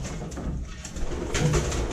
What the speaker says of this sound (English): Stupid pigeons.